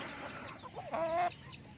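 Farm chickens clucking and calling in a rural setting, a single rising drawn-out hen call standing out over steady background clucks and faint farmyard noise.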